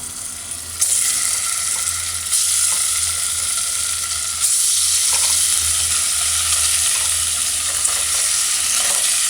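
Tofu frying and being stirred in a pan on a stove set to medium heat for a curry: a loud, steady sizzle starts about a second in and runs throughout, with occasional stirring scrapes and no talking.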